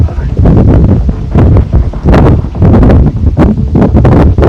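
Strong gusting wind in a severe thunderstorm batters the microphone in loud, roaring bursts, with rustling branches and the rumbling buffet rising and falling throughout.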